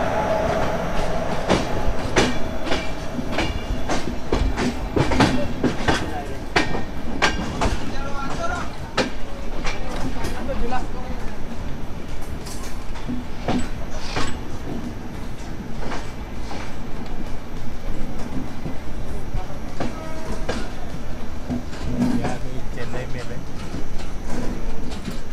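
The 22106 Indrayani Express runs from Pune to Mumbai, heard from inside with steady rolling rumble and rhythmic clickety-clack of the wheels throughout, and people talking over it.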